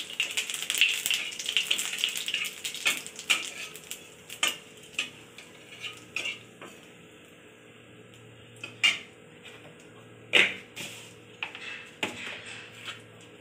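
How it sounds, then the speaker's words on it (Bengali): Cumin seeds crackle in oil left over from frying fish, with a soft steady sizzle broken by sharp pops and clinks of a utensil against the pan, close and fairly quiet, no talk. "এখন এই যে মাছ ভাজার তেলের মধ্যে জিরে দিয়ে দেবো।"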